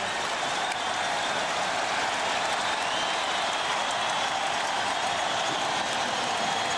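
Home crowd at a Sacramento Kings NBA basketball game, on its feet cheering and applauding in a steady, dense roar that fills the arena without a break.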